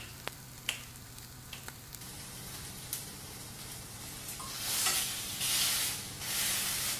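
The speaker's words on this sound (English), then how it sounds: "While the burgers are cooking," Tuna burgers frying in a pan, a soft, steady sizzle with a few sharp ticks and pops early on, then louder bursts of hissing spatter toward the end.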